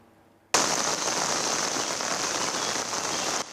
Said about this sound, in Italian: Le piogge delle scorse settimane, quelle che si stanno ancora battendo sul territorio